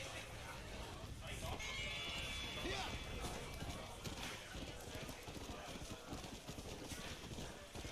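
Horse hooves clip-clop at a gallop in Red Dead Redemption: Undead Nightmare, a busy rhythmic patter mixed in with other game sounds and a voice talking over them.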